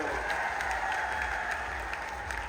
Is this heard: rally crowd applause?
yes